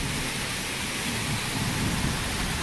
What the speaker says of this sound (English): Here we are, nice big rain.